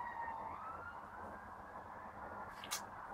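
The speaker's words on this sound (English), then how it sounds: "Ambulance." An ambulance siren wails faintly in the distance, a sustained rising and falling tone heard from indoors over a quiet background with no talking.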